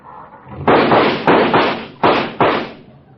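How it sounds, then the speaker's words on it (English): A run of loud, heavy bangs and sputtering blasts, five or so in quick succession, like a rattly old car engine backfiring close by. "My, what a noisy car."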